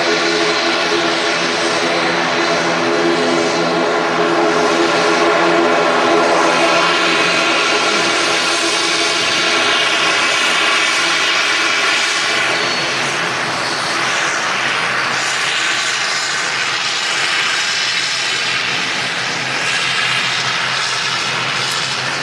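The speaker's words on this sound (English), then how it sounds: "That ATR in from the Isle of Man, Logan Air operating that one" A Loganair ATR turboprop arriving at Manchester from the Isle of Man, heard close and loud as a steady propeller drone with a layered humming tone, gradually easing off near the end.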